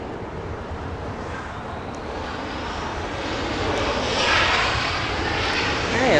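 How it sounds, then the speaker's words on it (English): A Virgin Atlantic airliner taxiing close by at Los Angeles International Airport gives a loud, steady jet-engine roar that swells slightly toward the end, with wind buffeting the microphone. "Virgin Atlantic taxiing really close to us."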